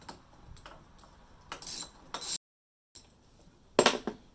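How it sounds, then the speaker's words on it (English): Sharp ratcheting ticks and metallic clinks in short bursts, separated by a brief silence, as a 10 mm socket wrench loosens a battery terminal bolt on a 2007 Chevy Avalanche. "we're gonna use this purple 10 millimeter socket to go and remove that bolt there"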